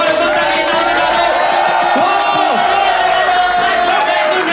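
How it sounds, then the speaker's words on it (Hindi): A live comedy audience cheers, whoops and claps for a performer in a loud, sustained crowd roar, with shouted voices and applause blending together close by. "एक बार अपने ताली बजा दो, गौरव गुप्ता के लिए ताली बजा दो।"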